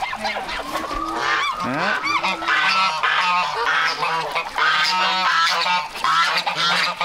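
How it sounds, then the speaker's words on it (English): Loud, repeated honking and quacking from a group of waterfowl close by, overlapping calls with no speech. "We've got all the ducks eating."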